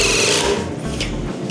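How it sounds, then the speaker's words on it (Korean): Milwaukee M18 FQID first-generation impact driver sinking screws into wood, a close rasping, whirring buzz in quick bursts with short pauses between, no voices. "본격적으로 FQID 1 모델로 목공 피스를 박아볼"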